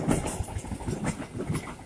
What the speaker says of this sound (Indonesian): ini kereta yang tadi yang yang melintas dari arah barat menuju arah timur